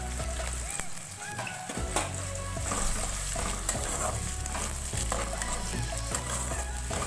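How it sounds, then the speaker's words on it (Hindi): Onions fry in hot oil for Odia-style egg chowmein, with a dense, continuous sizzle and occasional stirring clatter, close and steady throughout; a voice talks over parts of it. "जो तेल गरम है मुझे पियाज पकाऊँ"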